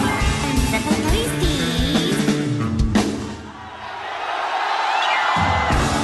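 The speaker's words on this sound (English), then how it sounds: "But instead they were just a little confused and just screamed." A concert crowd screams in confusion, a loud dense roar of many voices with whoops and cheers that dips briefly midway, then swells again.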